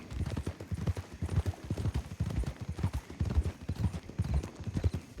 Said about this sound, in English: I'm riding on the bare back of the horse here.